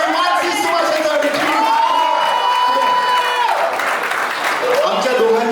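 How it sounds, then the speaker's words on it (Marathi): A studio audience at a televised Zee Marathi mango festival eating contest bursts into loud, sustained applause and cheering with whoops, while a presenter talks over the din. "जोरदार टाळ्या झाल्या पाहिजे"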